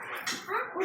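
A puppy gives a short, faint high whine and whimper, a couple of brief rising cries close by.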